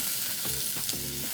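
Chilli and ginger fry in hot oil in a pan, making a continuous close hiss with stir-scrape pulses roughly every half second and no voices.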